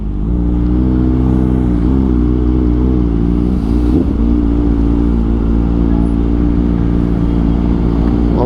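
A big bike motorcycle threading through heavy city traffic, its engine droning steadily and close with layered low harmonics, a brief rev swell midway, and road clatter and surrounding vehicle noise mixed in throughout.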